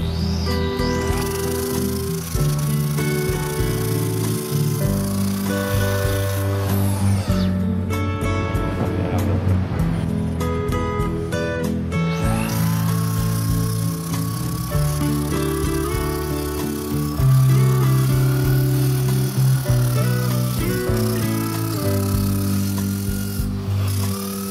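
An ordinary electric drill fitted with a sandpaper holder attachment sands steadily, giving a continuous loud whirring rasp that runs throughout with slight shifts in pitch and pressure.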